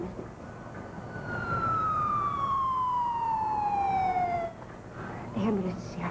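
An ambulance siren wails in a long descending sweep that cuts off, then a short rising tone starts, loud over low traffic rumble, with voices faintly present.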